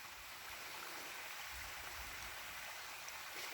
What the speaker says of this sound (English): for this beautiful waterfall, like a little babbling brook in the woods